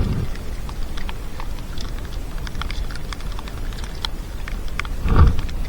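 Steady patter of rain on a surface with scattered light ticks, ending in a brief louder splash.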